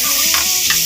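Paneer cubes and vegetables, including carrot, fry and sizzle loudly in a pan, with a steady hiss broken by a couple of stirring scrapes close at hand.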